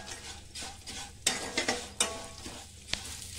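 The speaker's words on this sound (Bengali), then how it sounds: "দেখো এটা ভেজে নিয়েছি, নাহলে এটা গলে যাবে, তো একটু ভেজে নিতে হবে ভালো করে" Vermicelli with raisins being fried and stirred in a pan: a steady close sizzle broken by several sharp scrapes and clinks of the spoon against the pan, with no voices.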